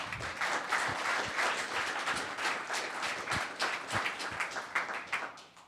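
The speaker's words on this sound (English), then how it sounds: "how about a round of applause?" A round of applause at a Los Gatos town council meeting, a fairly quiet room of hands clapping steadily with distinct individual claps standing out, continuing evenly throughout.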